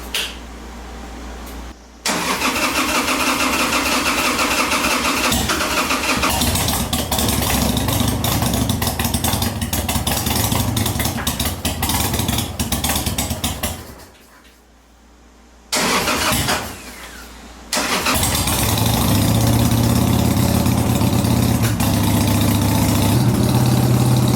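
A Harley-Davidson motorcycle engine with a CV carburetor cranks, catches and idles loudly and steadily up close, cutting out twice briefly before restarting and settling back into a rough, throbbing idle.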